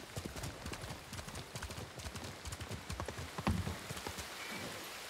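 Horse hooves galloping in the video game Ghost of Tsushima, a steady fast clip-clop of close, loud hoofbeats running throughout, with soft rain-like ambience behind.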